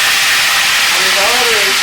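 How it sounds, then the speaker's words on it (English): Boiling water poured into a pot roast pan on a stove, a steady loud hiss and sizzle of steam throughout, with a faint gurgling tone rising near the end. "I'm going to pour in a 3/4 cup of boiling water."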